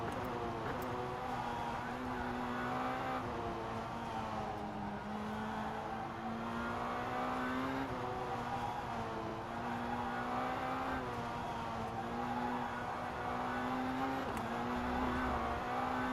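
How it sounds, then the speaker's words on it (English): A Formula 3 race car in rFactor 2 holds a steady engine drone on throttle, its pitch rising and dipping slightly through corners, continuous and prominent from start to end with no gaps. "Car seems like being happy having a little bit of throttle going on."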